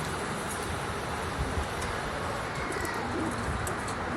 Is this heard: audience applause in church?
no